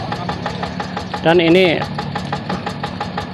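A Yanmar TF85 tractor's single-cylinder diesel thumps in a quick, steady rhythm nearby, with a brief louder tonal burst in the middle and someone talking over it.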